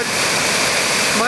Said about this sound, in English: Mud Creek Falls. You can see it's muddy as hell.